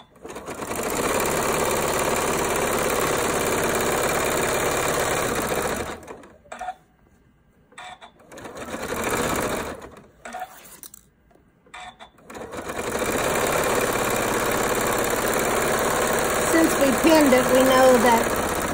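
A sewing machine stitching a quarter-inch seam around a pillow, running in a loud steady whir that stops twice briefly, with faint handling noise in the gaps, then starts up again and carries on to the end.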